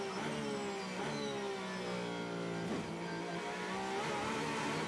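A Porsche race car at the 24 Hours of Le Mans screams past with a loud, sustained high-revving engine note, its pitch sweeping through gear changes and staying steady and close throughout.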